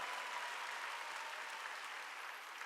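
A church congregation claps steadily during a Wednesday worship service, a dense and continuous wash of many hands at moderate loudness with no voices over it.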